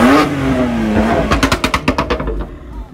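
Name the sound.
modified Volkswagen Scirocco sports car engine revving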